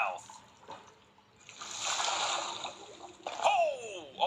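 Splashing into water in the Minecraft video game, soft sloshing and splashes that rise midway and return near the end, with a sharp burst and light background noise.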